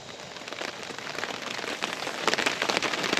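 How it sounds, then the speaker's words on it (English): Rain pattering on a tarp stretched over an outdoor maple syrup evaporator late in the day, a steady close-up drumming that grows slightly heavier and denser toward the end, with no voices. "the snow has turned to rain"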